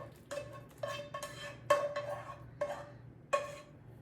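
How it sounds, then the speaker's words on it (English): A spoon clanks against the pot as sauce is stirred into pasta in a Dutch oven, six or seven sharp metallic knocks in an uneven rhythm, close and fairly quiet. "Stir it all up. Get all the sauce mixed in with the pasta"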